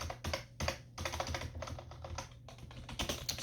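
Fast, close typing on a computer keyboard, dense bursts of key clatter with brief pauses between runs, heard alone without speech.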